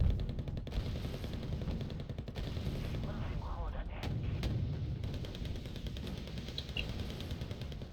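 Artillery fire in the strategy video game Wargame: Red Dragon: a run of muffled booms and gunfire bursts over a constant battlefield rumble, fairly quiet and somewhat distant.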